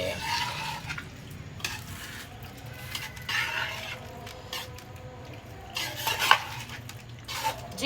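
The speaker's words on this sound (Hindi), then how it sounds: "इनको हम लोग डाल देंगे कढ़ाई में और फिर इसको भी मिक्स कर देंगे" Eggs are stirred and mixed in a karahi, a steady scraping and clinking of a utensil against the metal pan with faint sizzling beneath, no voices.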